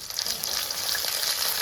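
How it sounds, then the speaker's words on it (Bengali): Ginger paste frying and splattering in a hot pan with a little turmeric, a steady close sizzle and crackle that stays even throughout, with no voices. "আদাটা ছিটবে এখনই, ওই জন্য আমি সামান্য একটু হলুদ দিয়ে দিচ্ছি।"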